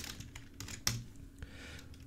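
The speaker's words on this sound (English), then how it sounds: "So let's say that we type in here vegetable." Light keystrokes on a computer keyboard while entering a word into a spreadsheet cell, a handful of soft scattered clicks with one sharper tap, faint and close.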